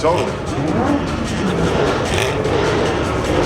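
A vintage Nissan drives out past a crowded SEMA show with its engine running steadily nearby, amid the dense hum of other cars and people talking throughout.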